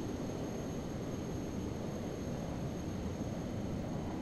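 Steady, faint broadband engine drone of another aircraft nearby in Microsoft Flight Simulator X, an even airy roar that holds constant throughout without rising or fading, no voices.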